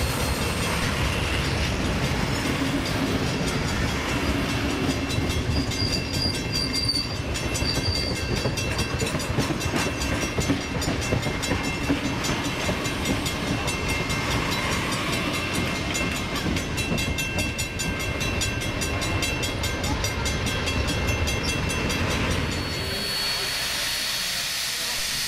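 A steam locomotive, 3265, rumbles past on the rails in New South Wales with a steady, loud roar and hiss throughout, the noise dropping off abruptly near the end.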